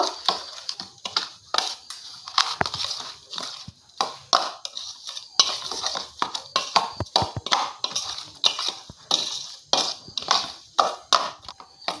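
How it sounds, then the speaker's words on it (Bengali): Ground spices are stirred into oil in a pan for raw mango pickle, with irregular scraping and knocking of a spoon against the vessel, fairly close and unaccompanied by talk. "এই তেলের সঙ্গে মশলাটা খুব ভালো করে মিশিয়ে নেব"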